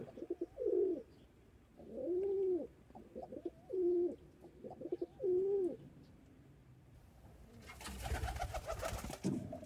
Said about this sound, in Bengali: এই ঘরে মাত্র কয়েক জোড়া পায়রা থাকে